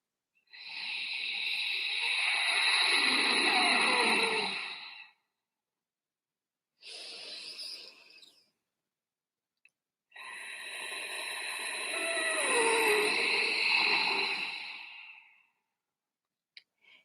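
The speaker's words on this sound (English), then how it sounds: "You're breathing in and you're tensing at the throat." Slow Ujjayi breathing with a tensed throat, a soft ocean-like hissing rush repeated in three long breaths, close and alone, separated by silent pauses.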